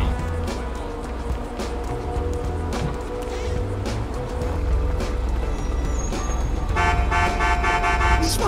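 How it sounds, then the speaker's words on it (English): Car horn honking in GTA V roleplay, with repeated toots over steady engine and traffic noise, a brighter tonal burst near the end, and no talk in the clip. "Who the fuck are you honking at?"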